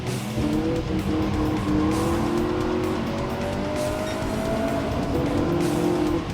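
Race car in Gran Turismo played on a PS5 Pro, its engine note rising and falling through gear changes with tire squeal through a corner, loud and close with no talk.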